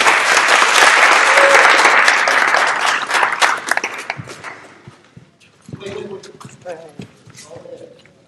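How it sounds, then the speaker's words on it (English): Dense applause from a sports banquet audience fills the first four seconds loudly, then thins to scattered claps with voices talking over the fading clapping. "let's clap it up for Don Prep, guys"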